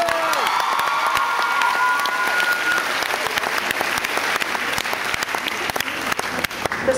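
Loud applause and cheering from the audience at a school golden jubilee concert, dense and sustained with scattered shouts and whoops from the crowd.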